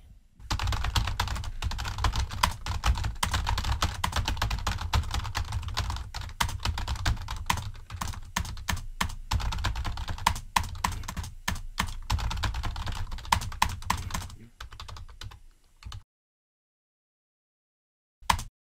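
Rapid, continuous typing on a computer keyboard, close and loud, with dense clattering keystrokes for about fifteen seconds before stopping into silence, then one final click.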